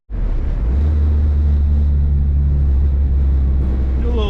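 BMW R18 motorcycle pulling hard through third gear, a loud, steady low engine drone that starts abruptly and holds with rising tone and wind rush, close to the microphone.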